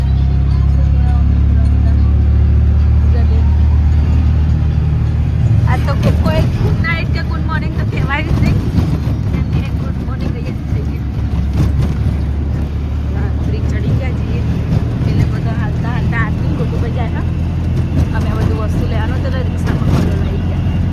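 An auto rickshaw rumbles steadily along a road with continuous engine drone, wind buffeting and traffic noise close by, while passengers chatter throughout the ride.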